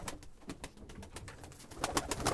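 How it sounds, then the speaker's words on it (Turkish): Domestic pigeons kept for flying coo softly nearby, with scattered sharp taps and rustles around them and no talking. "Bunlar hep oyun kuşları."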